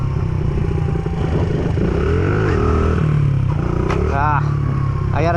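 A stunt motorcycle's engine runs loud and close as the rider works the throttle, a steady rumbling drone with shifting pitch and a few quick rising revs near the end.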